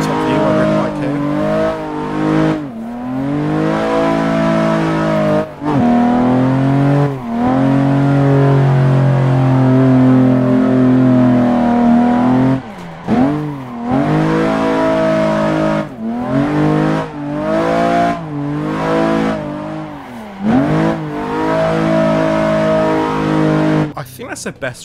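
Car engine in the Assetto Corsa racing game revving hard through repeated gear shifts while drifting, loud and continuous with rising and falling pitch sweeps and brief drops between pulls.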